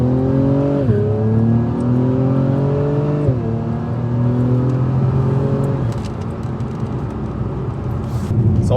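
A 2021 Acura TLX Type S in Sport Plus mode accelerates hard through the gears, its engine and exhaust note climbing in pitch with clean shift drops, loud and close from inside the car.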